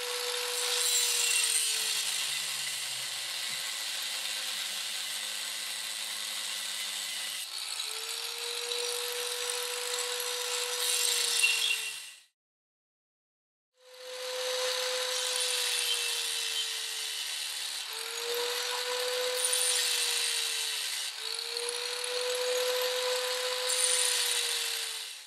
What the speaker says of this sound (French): on peut terminer de couper les lignes à la scie sauteuse